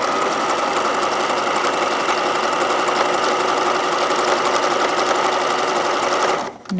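Sewing machine stitching ruffle strips onto a knit skirt, a loud continuous close-up mechanical whir with fast needle chatter that runs steadily and then stops abruptly at the end.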